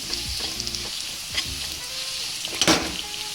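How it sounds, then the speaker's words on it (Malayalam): Onions and masala sauté in a pan for an idli masala dish, a steady frying sizzle broken by repeated scraping stirs and a few louder clatters of the spoon against the pan. "നമ്മുടെ മസാല ഉള്ളിയൊക്കെ ഒന്ന് വഴണ്ടിയിട്ടുണ്ട്."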